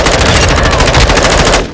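Rapid automatic gunfire from Call of Duty: Modern Warfare II, a loud, close burst of evenly spaced shots rattling continuously before cutting off abruptly.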